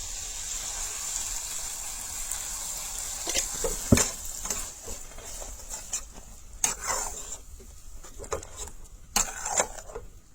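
Chopped peanuts sautéing in a pan for a Bengali radish and paneer curry, with a steady soft sizzle and occasional sharp scrapes and clacks from stirring, close by and alone.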